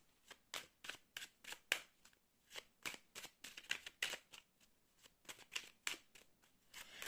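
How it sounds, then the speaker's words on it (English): Tarot cards being shuffled, drawn and laid out during a card reading: a steady run of crisp papery flicks and slaps, close and fairly quiet, with no talking. "I'm going to open up a few more cards."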